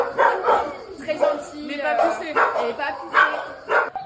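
Small mixed-breed dog with a short tail barks repeatedly at an animal pound, sharp yips and barks recurring every half second or so while a person talks nearby.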